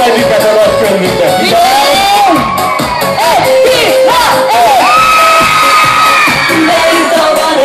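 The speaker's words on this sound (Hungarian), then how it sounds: "azoknak a sikítását szeretnénk háromra hallani, akik beírják a nevüket a nagy könyvükbe" A loud audience, many of them children, screams and cheers at a 2016 outdoor summer concert in Apátfalva. The shrill whoops and shouts overlap in one continuous roar.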